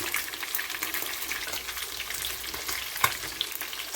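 Fish frying in hot oil for a Jamaican-style sweet and sour dish, a steady close crackling sizzle with a few sharper pops, no talking over it.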